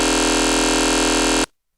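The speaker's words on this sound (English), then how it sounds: "So it's just a FM synth really." Raw FM synth bass patch from Propellerhead PX7 in Reason, played with effects bypassed: a loud, steady, buzzing sustained tone rich in harmonics, holding for about a second and a half before cutting off abruptly into silence.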